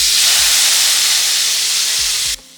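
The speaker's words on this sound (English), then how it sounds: "Next, place these into a hot pan on low heat." Buttered garlic bread hisses and sizzles loudly in a hot pan on low heat, a close, continuous frying crackle that cuts off abruptly near the end.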